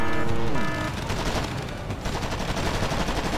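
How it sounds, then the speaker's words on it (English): Rapid gunfire from a Bradley cavalry fighting vehicle in the PC war game Wargame: AirLand Battle, a dense sustained burst of shots mixed with battle noise, loud and close throughout with no talk. "you have Bradley cavalry fighter vehicle shooting your team"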